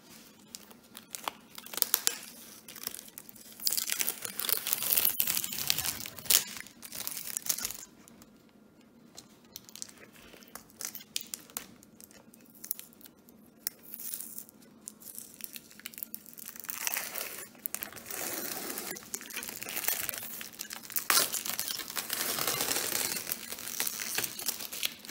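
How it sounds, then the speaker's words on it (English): Masking tape is peeled from the edge of a folk-art painting on paper in a series of close, crinkly tearing strips and rustles, stopping and starting irregularly with short quiet gaps between pulls. "we are going to take off the masking tape"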